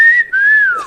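A person whistles a single clear, sustained note that breaks briefly, then holds and slides downward, close and alone.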